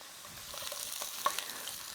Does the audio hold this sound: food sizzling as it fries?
yes